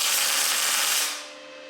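Welding torch burning roll cage mounts onto steel pipes, a steady loud hiss and crackle that fades and settles into a quieter hum near the end.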